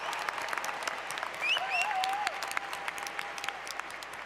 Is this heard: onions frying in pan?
no